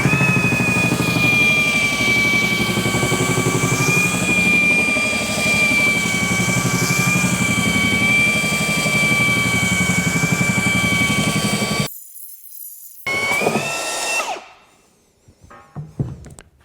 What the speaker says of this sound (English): We're gonna go right up to the fastest speed, see how much dust collects inside the bag